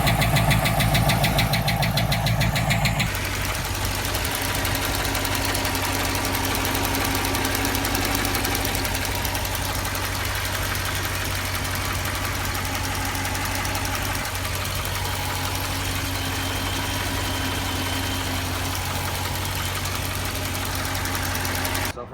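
A Hemi V8 with early-stage lifter problems idles steadily nearby, a low rumble with a faint ticking texture, after a brief louder opening burst.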